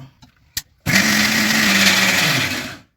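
Mixer grinder blending ginger and hill garlic into a paste: a few small knocks, then the motor starts abruptly and whirs loud and steady for about two seconds before winding down to silence.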